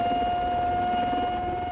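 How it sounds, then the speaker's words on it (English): A helicopter over the Alaskan wilderness gives a continuous droning whir with a faint rhythmic beat, steady and unbroken throughout. "There's a helicopter coming to rescue someone."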